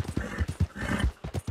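Horse hooves galloping in a video game, a quick run of rhythmic thudding clip-clops repeated several times over a short burst, close and fairly loud.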